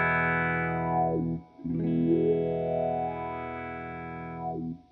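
A Cry Baby Wylde wah pedal sweeps a held distorted electric guitar chord, its tone swelling up and back down in slow arcs, with a short break where the chord is struck again; steady, loud, no voices.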